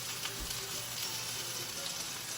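Pork tenderloin or prime rib searing in a hot pan gives a steady, moderate sizzle with faint hissing texture throughout, heard close, with no talking.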